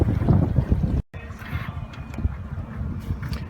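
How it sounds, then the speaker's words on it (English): Wind buffets the microphone aboard a sailboat on a steady 10-knot breeze, a close rough rumbling roar that cuts out briefly and then returns more softly with light hull and rigging noises. "Nice consistent 10-knot wind in a perfect direction that we can sail straight home."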